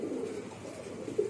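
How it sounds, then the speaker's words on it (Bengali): A young green-barred pigeon chick gives soft, low cooing that stays steady and close. A brief louder coo comes near the end. "সবুজ গোলা বাঘা কবুতরের বাচ্চা"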